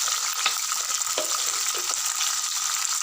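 Fenugreek seeds fry in hot oil in a pan for tomato chutney, giving a close, steady sizzling hiss with scattered small crackles and pops throughout, with no voices.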